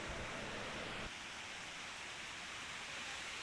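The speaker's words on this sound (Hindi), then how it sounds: "लेकिन यार झरने की आवाज़ सुन के मज़ा आ जाता है।" A waterfall roars beside a mountain trail on the Kedarnath trek, a dense, steady rush of water close by that is slightly louder at the start and then holds level with no voices.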